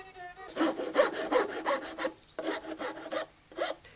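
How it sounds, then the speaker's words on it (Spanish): A rasp and sandpaper work over the outer wooden surface of a rabel, a folk bowed string instrument, in a run of close, rhythmic scraping strokes, each a short rough burst with brief pauses between, and no talking. "Con la escofina, la navaja y la lija, este rabelista repasa la superficie exterior del instrumento"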